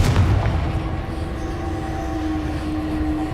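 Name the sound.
Confringo explosion spell from the video game Hogwarts Legacy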